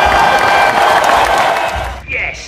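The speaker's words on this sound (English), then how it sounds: "Give him a big round of applause." A school audience applauds a pupil receiving an award. The applause is loud and dense, with cheering mixed in, and it drops away sharply near the end.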